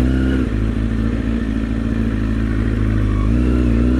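A motorcycle engine runs loud and close, its rumble rising in a couple of throttle blips over a steady idle.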